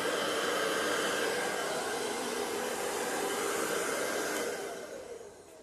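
A blow dryer blows steadily over an acrylic Dutch paint pour with a split base, a loud, even, close rushing whoosh that fades off near the end, with no voices.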